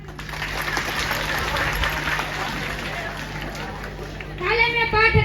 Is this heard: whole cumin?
no